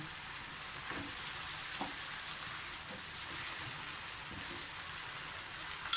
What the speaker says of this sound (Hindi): इसको हम दही के साथ थोड़ा सा भूनेंगे